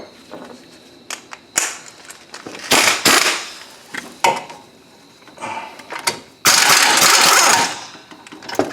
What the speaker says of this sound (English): now we'll just finish taking these mounting bolts off